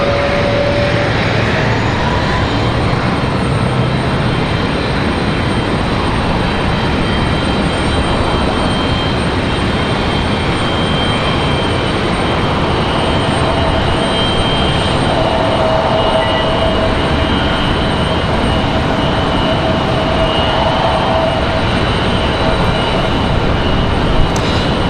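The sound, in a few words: Frontier airliner departing on runway 23 right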